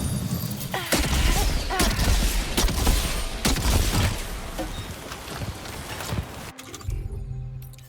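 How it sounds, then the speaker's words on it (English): Gunfire in the video game Death Stranding 2: a rapid series of sharp, loud shots in uneven bursts over several seconds, then a brief quieter pause before a final few shots. "Open fire."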